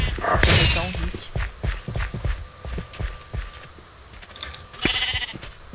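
Sheep bleat in the video game Sheep Quest, with a couple of loud, wavering calls over a quick patter of footstep-like taps and clicks.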